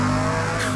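A turbocharged car engine in Car Mechanic Simulator revs loud and close, a sustained droning roar with steady harmonic tones and a brighter rise just before the end.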